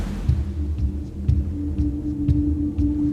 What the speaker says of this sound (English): The faint noise of drums pounding. There's a hum in the air.